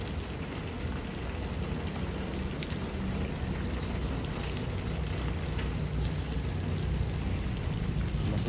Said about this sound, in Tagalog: Medyo na ulan ngayon kasi dala lang ng talanding panahon yan